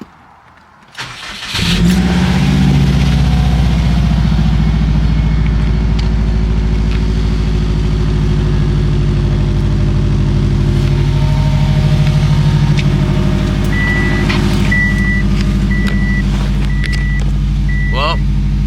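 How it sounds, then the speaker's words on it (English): A Subaru WRX fitted with a billet wheel turbo cranks and fires up, then settles into a loud, steady idle with a deep exhaust rumble that holds throughout, with faint beeping chimes later. "I'm just gonna start the car and see if there's any blue smoke that comes out the exhaust."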